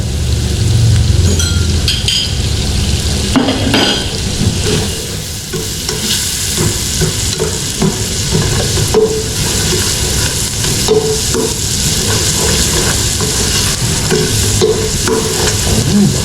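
Butter added to a pan while stir-frying, a loud continuous sizzle with scraping and clinking from stirring running the whole time, no talking.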